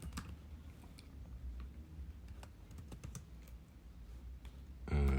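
Steady, quiet tapping on a computer keyboard while coding Python plot labels, a run of light irregular keystrokes close by, ending with a louder thump at the end.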